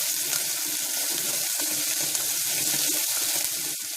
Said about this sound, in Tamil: வெங்காயம், கருவேப்பிலை மேலே அந்த பச்சை மிளகா போட்டு நல்லா வதக்கிக்கிறோம்.